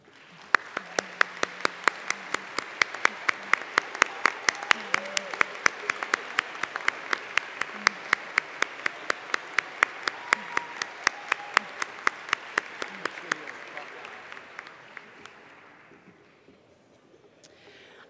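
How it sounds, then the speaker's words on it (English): Summer interns at a closing ceremony give themselves a long round of applause, a crowd of many hands clapping steadily for well over ten seconds with sharp individual claps standing out before it fades. "So please stand and give yourself a well-deserved round of applause."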